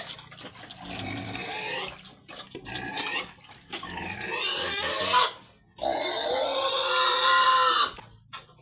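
A pregnant sow, 94 days into gestation, grunts and squeals loudly and almost continuously from close range, with short pauses between the harsh, nasal calls on a farm.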